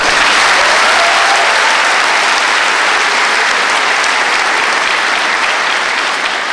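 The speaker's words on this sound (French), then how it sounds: "j'aimerais qu'on les applaudisse encore une fois" A large audience at a university commencement ceremony applauds loudly and continuously, a thick, even roar of clapping with no pauses, close and full.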